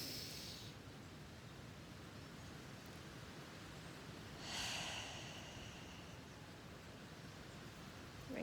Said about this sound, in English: Okay, so breathing in.